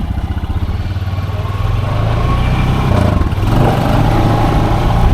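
A 2015-2016 Honda Pioneer 500 side-by-side with a snorkel mod idles a little high at about 1650-1700 RPM, a loud, steady, close engine drone with an even pulsing rhythm and no voices.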